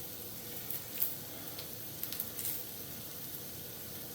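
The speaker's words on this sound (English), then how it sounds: "Oh, we can already smell the bacon." Bacon sizzles in a frying pan while breakfast burritos are made, a soft continuous crackling hiss with a few sharper pops, fairly quiet and with no talk.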